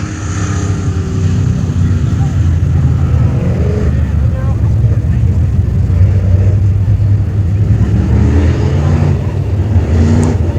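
Race cars lapping the Brownstown Speedway oval during the Scott Patman Memorial, a steady loud engine roar filling the whole stretch, with an announcer talking over it.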